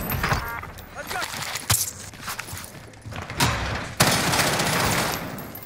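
Gunfire in the Warzone video game: rapid automatic bursts and sharp shots over a dense battle soundscape, with players talking and shouting throughout.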